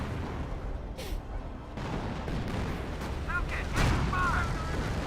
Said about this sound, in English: Does take some shots there